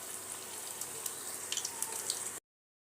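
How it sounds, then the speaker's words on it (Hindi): Bitter gourd slices coated in gram flour batter fry in hot oil over a high flame, making a steady, soft sizzling hiss with faint crackles that stops abruptly. "फ्राई कर लीजिएगा।"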